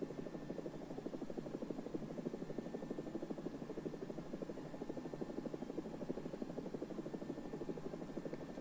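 A Swedish entry-level helicopter in the War Thunder video game drones with a steady, rapid rotor chop and engine hum, faint and continuous with no talk over it.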